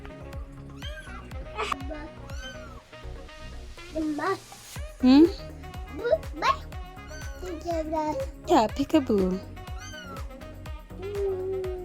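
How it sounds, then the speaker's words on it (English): Three abandoned kittens meow repeatedly in short, close, high cries scattered through the clip, mixed with a child's and an adult's quiet talk. "There's 3 kittens."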